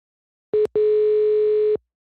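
A telephone call signal gives a short electronic beep and then a longer steady tone of about a second, clean and loud with nothing else around it, as if the phone line were glitching.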